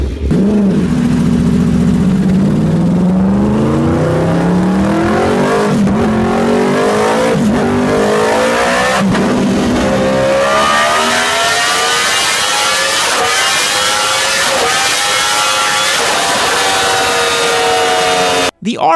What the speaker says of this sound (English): the distinct note from the cross-plane crank is one that is just too throaty and mean